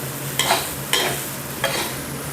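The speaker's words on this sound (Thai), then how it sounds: "อันนี้เราก็ผัดคลุกเคล้าให้ทั่วเลยครับ" Soft-cooked jasmine rice being stir-fried with soy sauce in a pan, three distinct spatula scrapes spaced apart over a low, steady sizzle, close up with no voices.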